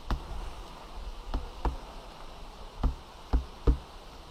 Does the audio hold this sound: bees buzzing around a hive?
yes